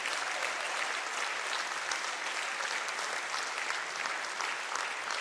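Steady, dense audience applause fills a conference hall for the commission of the Amsterdam Academic Conference, an even, continuous roar of many hands clapping at constant loudness without pauses.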